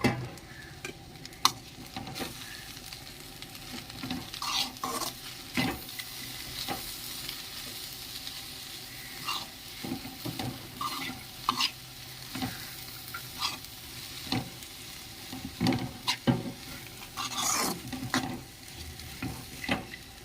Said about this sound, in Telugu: పప్పు ములకాకు కూడా బాగా కలుపుకొని కొంచెంసేపు ఇలా మగ్గించుకున్నామండి